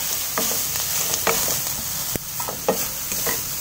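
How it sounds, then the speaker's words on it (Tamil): Mustard seeds and curry leaves spluttering in two spoons of hot frying oil for a South Indian tempering, steady broadband sizzle with scattered sharp pops and crackles, close up and with no voices. "2 ஸ்பூன் எண்ணெயை விட்டு கடுகு போட்டு கருவேப்பிலையை போட்டு தாளிக்கணும்."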